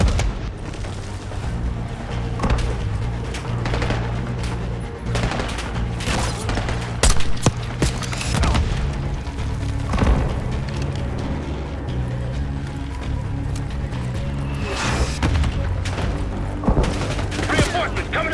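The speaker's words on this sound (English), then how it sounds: "Focus on the mortars!" Heavy mortar and artillery blasts in Call of Duty Black Ops 6 boom in dense, overlapping bursts with continuous rumble and gunfire throughout a chaotic battle, loud and sustained.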